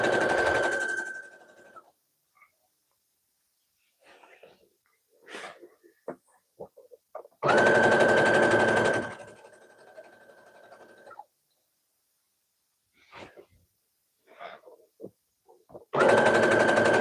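A sewing machine stitches a reversible pillow bonnet in three separate whirring runs, each a few seconds long, with quiet handling and fabric rustle in between.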